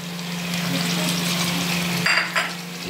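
Tomatoes added to a hot pan with browned ingredients, frying with a steady crackling sizzle over a low hum, then a couple of brief scraping clatters from a utensil near the end.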